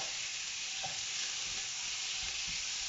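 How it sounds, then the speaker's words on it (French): Ground beef and onions frying in a pan give a steady broadband sizzle throughout, with occasional soft stirring scrapes underneath and no voices. "Bon là je vais faire cuire ma viande hachée. Voilà, avec mes oignons."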